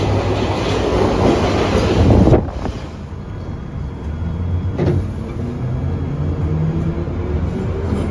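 A London Underground Piccadilly Line 1973 Stock train rumbles loudly along the track, then the noise drops sharply to a softer steady hum with a brief clank midway.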